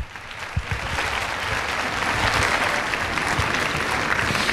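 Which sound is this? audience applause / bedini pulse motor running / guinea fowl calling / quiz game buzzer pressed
audience applause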